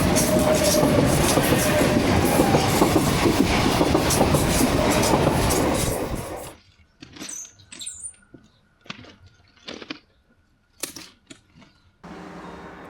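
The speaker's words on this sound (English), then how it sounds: "just as I started shooting, the trains had started again" A train in Spain rumbles loudly for about six seconds, then the noise cuts away to sparse clicks, knocks and faint squeaks.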